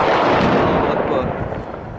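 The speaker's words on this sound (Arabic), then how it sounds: "قصف عنيف من الرشاشات الثقيلة على مدينة" Heavy machine gun fire and shelling on residential buildings in Rastan, Syria, in 2014, a loud, close roar of gunfire and blasts that fills the moment and slowly fades.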